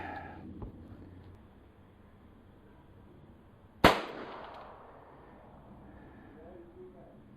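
A single sharp report from a pistol firing .22 LR Gecko ammunition cracks out mid-clip, loud and abrupt with a short decay, surrounded by quiet outdoor background.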